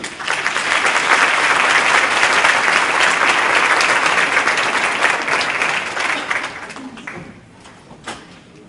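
Loud, sustained audience applause fills a conference hall as speaker Lisa Conley is welcomed to the stage at a keynote event, holding steady for several seconds before tapering off into scattered claps and quiet.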